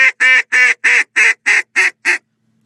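A duck call is blown in a quick even run of eight loud, close quacks, each note short and clipped, closely imitating a real duck.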